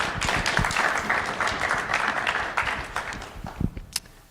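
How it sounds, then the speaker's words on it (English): A school audience claps through a middle school spelling bee assembly, a dense, steady patter of many hands that thins toward the end with a few sharper individual claps. "A round of applause,"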